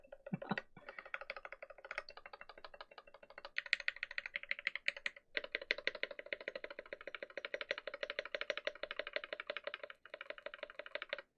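Rapid, continuous typing on a NovelKeys NK87 aluminum keyboard with rattly stabilizers, close up with crisp clacking keystrokes, short pauses between bursts and no talking.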